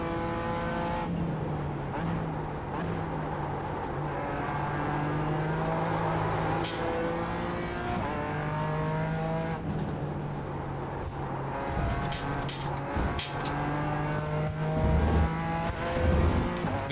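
Toyota GR86 engine lapping the Mugello circuit in a racing video game, a steady loud engine drone rising and falling with gear changes and revs across the lap, with brief tire noise near the end.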